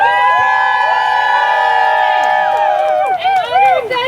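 Loud crowd cheering at a queer and trans rights rally, with many voices whooping and shouting together in sustained, rising cries that break into choppier yells toward the end.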